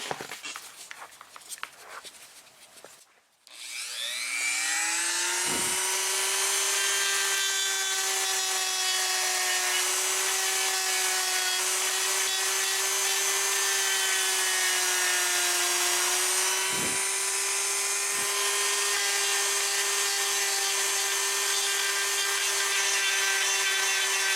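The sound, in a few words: Dremel rotary tool grinding fiberglass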